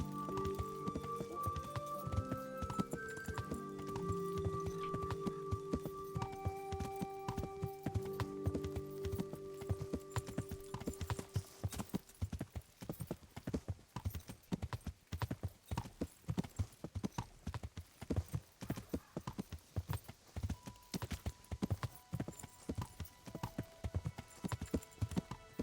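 Horse hooves clip-clopping at a steady trotting rhythm in the medieval video game Kingdom Come: Deliverance, music fading out over the first half before the hooves continue alone and close.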